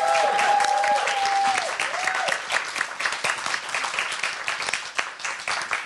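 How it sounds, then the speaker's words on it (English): An audience gives a round of applause in a performance room, dense clapping that swells loud at first and then thins into scattered claps, with a few cheers and brief voices mixed in. "please join me in a wonderful round of applause"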